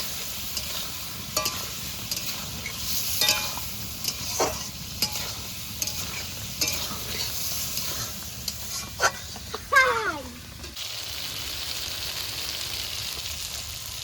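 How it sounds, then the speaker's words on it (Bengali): Potatoes stirred with salt, turmeric and spice masala in a hot pan, giving a continuous close sizzle broken by repeated scraping strokes of a spatula, with one longer sweep near the end before the frying hiss settles. "এরপরে আলুর সঙ্গে মশলাটাকে নেড়ে চেড়ে ভালো করে কষিয়ে নেব"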